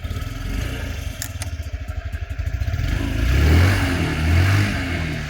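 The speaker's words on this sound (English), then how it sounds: "ignition on, put the bike on the brake, starts up straight away." A 2008 Honda Zoomer 50 scooter with a 50cc engine starts straight away and settles into a rough putter. The putter then rises into a louder, steady running drone, heard close and alone without voices.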